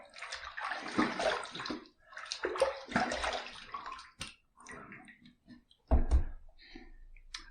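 A shaving brush and razor being rinsed under running water, with splashing bursts, drips and a few clicks, heard close and fairly quiet.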